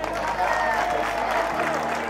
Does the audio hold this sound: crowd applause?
yes